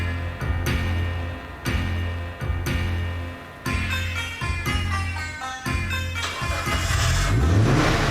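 A Subaru Predator P1 car engine revving in repeated bursts, each rising and then cut by a brief gap, building to a long climbing rev at the end, loud and near.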